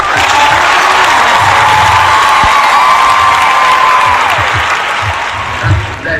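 A dense crowd at a Thai political rally for the Palang Pracharath party claps and cheers loudly, with whoops and children's shouts over a sustained roar that stays full throughout.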